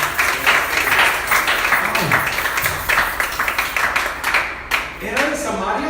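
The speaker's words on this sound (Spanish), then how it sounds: "Dale un aplauso al Señor" A church congregation claps and applauds, rhythmic hand claps fairly close and loud, with a voice briefly rising through the clapping toward the end.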